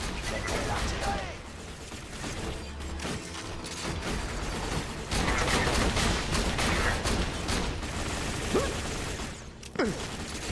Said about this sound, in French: Le combat continue, Mastoc. Mettez l'artillerie.